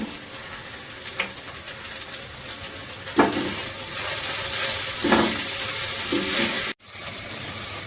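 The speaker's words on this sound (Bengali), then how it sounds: "এটা দিয়ে এটি সামান্য ভেজে নেব আমি।" Chicken seasoned with pepper and salt fries in a pan, a steady close hiss of oil with occasional stirring scrapes and bursts of louder sizzling, briefly cut near the end.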